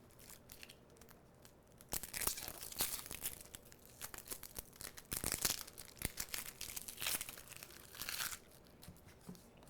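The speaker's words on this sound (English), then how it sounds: "we're just going to remove the top just so we can peel back those layers so we can get to usable onion" Dry outer onion skins are peeled back after the top is cut off, giving close, faint crinkling and tearing crackles in irregular bursts, with no speech.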